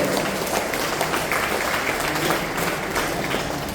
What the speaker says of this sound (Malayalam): എല്ലാവരും കൈയടിച്ച് മകളെ പ്രോത്സാഹിപ്പിക്കാം.